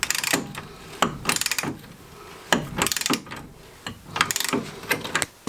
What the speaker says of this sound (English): Undo the lower strut bolt.